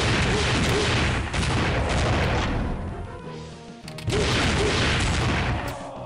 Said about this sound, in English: And then spam the rocket launcher.